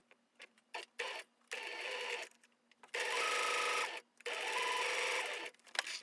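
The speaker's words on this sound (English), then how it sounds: "So you're sewing just right along here." Sewing machine stitching fabric for a homemade N95-type mask, running in several bursts of steady mechanical whirring separated by short pauses, close and fairly loud.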